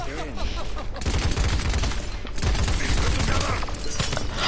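Rapid bursts of video game gunfire crackle loudly and continuously, with dense fusillade-like volleys and shattering impacts, a brief lull near the middle before the shooting resumes at full intensity.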